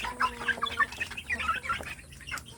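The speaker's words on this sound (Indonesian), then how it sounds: "Di sore ini saya memberi makan anak ayam kampung saya sedulur." Young native village chicks (ayam kampung) cluck and peep busily while being fed, with a rapid, overlapping run of high chirps and soft clucks close by and no talking.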